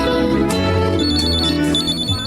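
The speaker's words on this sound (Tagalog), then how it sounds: "bigla na lamang ako nagising nang mag-ring ang cellphone ko." A cellphone rings steadily and loudly, a continuous electronic ringtone with repeating tonal beeps and no voices over it.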